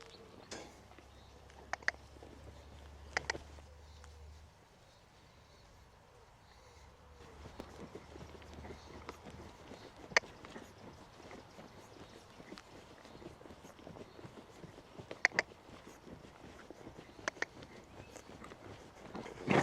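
A green four-year-old stallion walks under a rider in a big, unhurried stride. The soft hoof beats stay faint and near against a quiet background, broken by a few sharp ticks and clicks.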